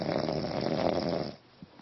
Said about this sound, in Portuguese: não é só porque tá dormindo profundo que não vai precisar roncar também desse jeito